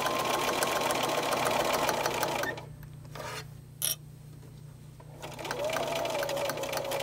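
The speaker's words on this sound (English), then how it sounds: "hold down the seams of the darts as I'm sewing across them" A sewing machine stitches across the layered darts of a fabric bowl cozy, whirring steadily up close, pausing for a few seconds in the middle, then running again.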